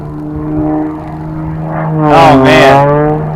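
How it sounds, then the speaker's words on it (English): An aerobatic plane's propeller engine droning during a slow roll at an unlimited freestyle competition, a steady tone that swells and shifts in pitch as it passes, with a voice talking over it. "slow rolling the plane."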